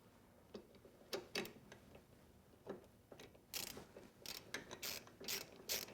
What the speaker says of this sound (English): And then go ahead and tighten it down.